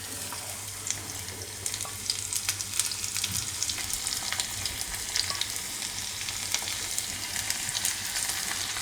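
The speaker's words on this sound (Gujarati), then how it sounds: "આમાં આપણે લસણ નાખી દેવું," Crushed garlic fries on low heat in a pan for Sindhi sai bhaji, a steady soft sizzle dotted with small crackles and occasional light stirring, close by and without speech.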